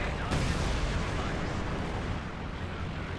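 A quad half-track firing anti-aircraft guns in the video game Company of Heroes 2, heard as a loud, dense, continuous roar of rapid gunfire and blasts that fills the whole stretch.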